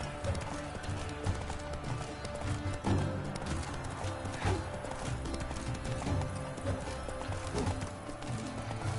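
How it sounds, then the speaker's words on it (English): Horse hooves galloping with clip-clop beats and an occasional neigh in the Witcher 3 Blood and Wine video game, a dense, continuous rumble of several horses mixed with music-like background. "the thunderous roar, hoofs pounds the ground"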